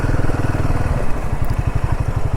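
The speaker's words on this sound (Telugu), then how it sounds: "వీడెవడో బైక్ వేసుకొస్తున్నాడు ఇట్లాగా." A motorcycle on a road produces a rapid, pulsing engine thump that stays close and fairly loud, with a brief dip in the middle before the beat returns.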